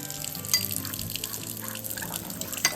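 A small amount of water, about two tablespoons, trickles and splashes into cornstarch in a bowl, quiet and close, with a couple of sharp clinks.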